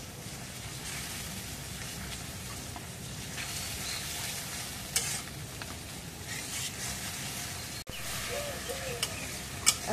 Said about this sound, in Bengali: গরম মশলা বাটা দিলাম, জিরে বাটা পরিমাণ মতো দিলাম।